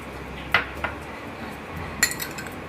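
A spoon clinks against a bowl a few times while grapes go into fruit custard, with a couple of sharp metallic taps separated by quiet pauses.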